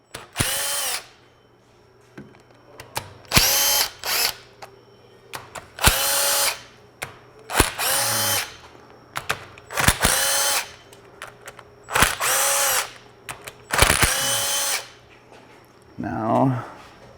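A power driver with a T40 bit backs screws out of a Polaris PRO R engine head. It makes about eight loud, close whirring bursts of one to two seconds each, separated by short pauses and clicks.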